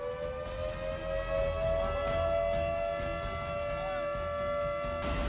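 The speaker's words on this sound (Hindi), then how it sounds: "सायरन बज रहे हैं।" Flood sirens sound during a flash flood as a swollen nala rushes through low-lying areas, with a steady high wail holding over a continuous roar of water and rumble, loud and unbroken.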